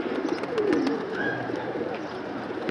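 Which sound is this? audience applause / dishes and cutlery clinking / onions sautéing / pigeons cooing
pigeons cooing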